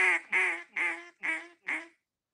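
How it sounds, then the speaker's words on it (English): Five loud nasal quacks in a steady rhythm, each a little shorter than the last, like a duck call blown close up. "So it's just a series of quacks."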